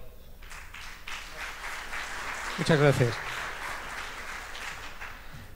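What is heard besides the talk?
audience applause after a speaker's introduction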